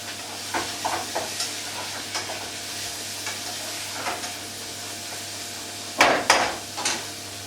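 Food is stirred in a pot over a low sizzle, with a spoon scraping and knocking against the sides in an irregular rhythm, close and clear, ending in a louder flurry of scrapes, with no talking.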